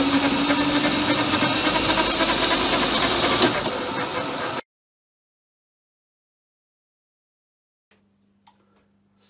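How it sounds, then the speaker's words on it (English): A Smarty AT-300 lathe turning a workpiece gives a steady whirring motor hum with a shifting pitch as the speed changes, running for several seconds before cutting off into near silence. "looking at the actual turning operation, you can then both see and hear how the RPM changes"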